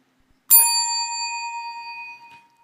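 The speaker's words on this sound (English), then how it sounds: "Jingle bell." A single bright bell strike, loud and close, with a clear metallic ring that decays slowly over about two seconds in an otherwise quiet room.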